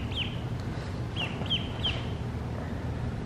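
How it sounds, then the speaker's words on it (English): Little ducks give four short, high calls, one early and then three in a quick run, over a steady low outdoor rumble. "Even little ducks."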